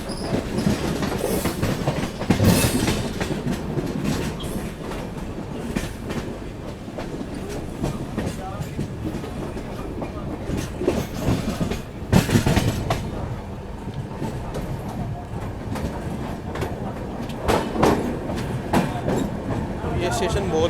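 The 12618 Mangala Lakshadweep Express runs on the rails between Hazrat Nizamuddin and Manmad, with steady rolling rumble and clickety-clack of wheels over joints, occasional louder bursts, and faint voices in the background.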